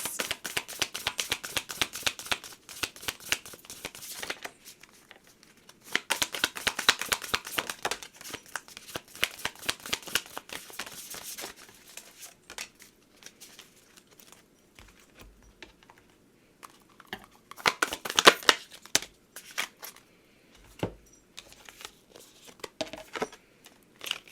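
Oracle cards shuffled by hand in repeated crisp riffling bursts, close and fairly loud, with short pauses and softer handling between runs and no talking.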